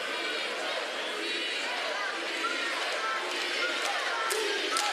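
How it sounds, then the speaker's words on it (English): A crowd stirs in commotion inside the Boutwell Auditorium during a World Games sumo bout, a steady wash of murmuring voices and chatter at moderate distance, with a commentator talking over it. "The crowd is having its say inside the Boutwell Auditorium as well. Much commotion."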